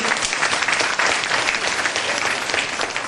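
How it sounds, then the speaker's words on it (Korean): Audience at a 2014 Lapa Plus 10th anniversary celebration event breaks into loud, dense applause, a steady roar of many hands clapping without pause for about three seconds. "이미지가 마음에 드시면 크게 한번 박수 한번 쳐주시죠."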